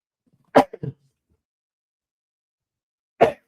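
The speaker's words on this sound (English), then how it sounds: "I'm going to sneeze here" A person sneezes in sharp, explosive bursts, one quickly followed by a brief catch of breath, then after a silent pause another abrupt sneeze.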